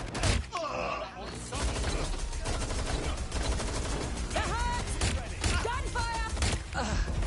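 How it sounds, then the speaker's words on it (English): Dense bursts of video game gunfire from Watch Dogs Legion rattle through the scene in rapid volleys, with voices shouting over the shooting. "Gunfire!"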